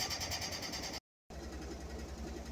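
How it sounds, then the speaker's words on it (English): A washing machine running at home, a steady mechanical whirring hum with a rhythmic churning pulse, close and continuous apart from a brief dropout of silence. "Sorry, a little washing machine noise there."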